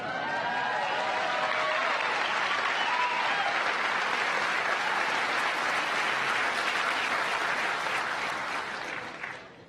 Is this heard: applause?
yes